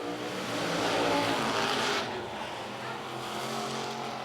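Vintage race cars roar around the oval at Lancaster Motor Speedway, a dense, loud wall of engine noise that swells as the pack passes close, then settles into a steady, slightly more distant drone of multiple cars at racing speed.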